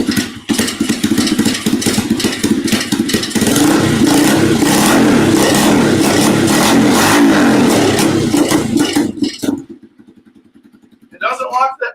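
A motorcycle engine fitted with a PZ30 carburetor sputters to life and revs hard, loud and close for about nine seconds, then cuts off into near silence before a voice speaks at the end.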